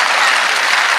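An audience at a Hindi comic poetry gathering claps steadily, a dense, loud wash of many hands with no pauses and no voices rising above it.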